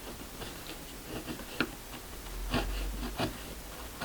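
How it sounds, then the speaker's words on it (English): A chisel paring wood in a workshop, a few soft scraping strokes and light ticks, close and quiet, with no talking. "let me just get a chisel and just pare away"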